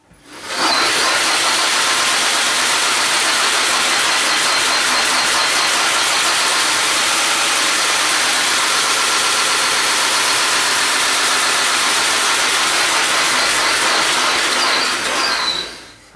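An electric-converted BMW 320i on jack stands spins its wheels with the transmission engaged, giving a loud, steady whirring drone with brand-new brakes adding scraping noise, running unbroken for about fifteen seconds.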